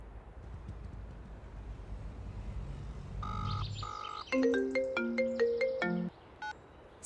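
Mobile phone ringtone for an incoming call: a short electronic melody of bright, clean tones that plays twice, with a brief pause between phrases, over a quiet background with no talking.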